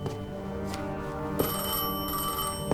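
An old-style telephone bell in the video game Destiny 2 rings continuously, a bright metallic trill that stays steady and fairly loud, with no voices.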